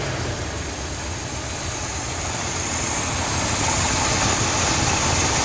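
An International Travelall engine idles with the PCV valve disconnected and a slight tremble from straightened pushrods, a steady close low rumble with a broad hiss that grows slightly louder over the stretch, with no voices.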